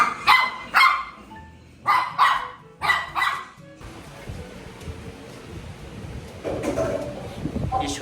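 A dog barks in several sharp bursts during play, loud and close, followed by a stretch of quieter rustling and background noise.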